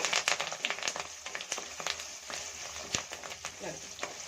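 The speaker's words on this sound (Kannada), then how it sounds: "ಚೆನ್ನಾಗಿ ಎಣ್ಣೆಯಲ್ಲಿ ಫ್ರೈ ಮಾಡ್ಕೊಳ್ಳಿ" Byadagi chillies and curry leaves fry in hot oil in a pan, a close, steady crackle and sizzle with scattered sharp pops, under a person speaking.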